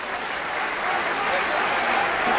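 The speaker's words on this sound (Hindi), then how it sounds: "बहुत सारी तालियां।" A crowd at a PSL cricket welcome-home celebration during a spring festival in Islamabad applauds in a dense, continuous wash that grows slightly louder, with a voice faintly underneath.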